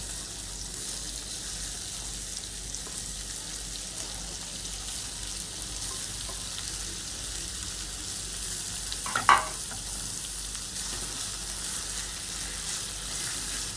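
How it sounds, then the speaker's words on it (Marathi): Four finely chopped medium onions frying in hot oil for pav bhaji give a steady, even sizzle throughout, with a single brief clatter of a utensil near the middle and no talking. "ऑइल आपलं गरम झालेलं आहे, त्यामध्ये मी 4 मीडियम कांदे हे बारीक चिरून घेतले ते मी ऍड करते"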